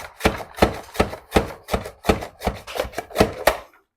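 Sharp, evenly spaced chops from the Once For All Mandoline Slicer Plus dicing vegetable slices, about ten crisp knocks in steady rhythm, close and fairly loud, with no talking.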